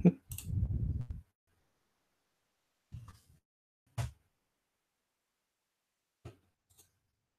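Mouse clicks during webpage editing: a few faint, sparse sharp clicks separated by long silences, with a soft rustle at the start, all heard close and quiet.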